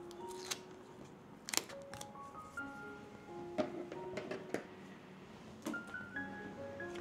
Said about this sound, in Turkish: Bandımı kesiyorum.